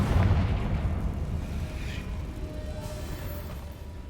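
A booming Confringo fire-spell blast from Hogwarts Legacy, with a heavy low rumble at the start that stays dense and loud and slowly trails off over a few seconds, with no voices.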